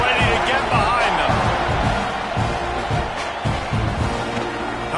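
Football stadium crowd roaring and cheering before a kickoff, a dense, loud wash of voices with thumping noises, continuing under a commentator's voice.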